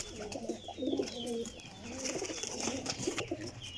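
Pure dub-breed pigeons coo in repeated low, throaty phrases, close and fairly steady, with soft rustling between the calls.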